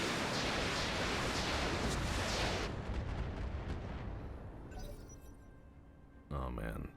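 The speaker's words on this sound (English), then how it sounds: "Shoots missiles at stuff." Medium-range missiles fired from a mech in the BattleTech game, heard as a loud, dense roaring burst of launches that fades into a rumbling tail, followed by another short blast near the end.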